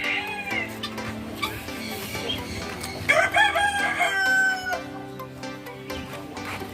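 Chickens and hens at a bird park, with a rooster crowing and clucking calls rising over a busy mix of other birds and background chatter, loud and close in bursts.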